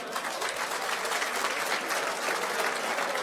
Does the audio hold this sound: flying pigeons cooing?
no